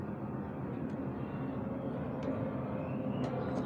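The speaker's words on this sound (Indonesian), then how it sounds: "ada pesawat ya, suara pesawat lewat" An airplane passing overhead, a steady broad roar sustained throughout, heard during a steam washer water seal repair.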